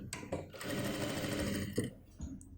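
A sewing machine stitches a fold of fabric along a churidar bottom hem, a fast continuous mechanical whirr running for about two seconds with a short pause and restart, no talking.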